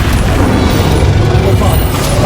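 A dense, booming blast from the Bombarda spell in the video game Hogwarts Legacy rumbles loudly throughout, mixed with layered game combat noise and no clear separate speech.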